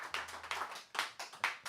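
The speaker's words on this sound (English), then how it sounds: "Please applaud." A small audience clapping briefly and loosely, a thin patter of a few hands with uneven bursts that fade out after a couple of seconds.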